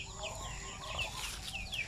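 Chickens cluck repeatedly on a poultry farm's free-range area, with short, sharp calls rising over a steady background hum and no talking.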